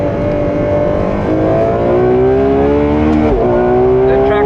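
A Ferrari race car at Clark Speedway revs hard with a loud, close, steady engine roar whose pitch climbs and dips, running without pause and with no voices.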